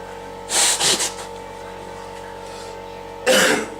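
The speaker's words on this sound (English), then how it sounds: "You'll have to excuse the coughing and the nose blowing." Two bursts of coughing and nose blowing from one person, a cluster of sharp harsh coughs near the start and another after a quiet pause, close and loud over low background hum.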